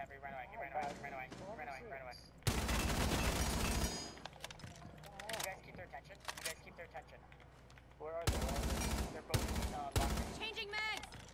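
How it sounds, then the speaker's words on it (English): Gunfire in a video game, fired through a staircase, comes as two long, loud bursts of rapid shots with sharp single cracks between them, and voices talk throughout. "If you can shoot him through the stairs."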